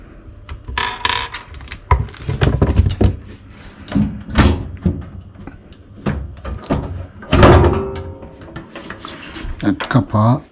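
A plastic front cover comes off a combi boiler, giving a series of close knocks, clunks and scraping handling noises, with a voice audible at moments between them.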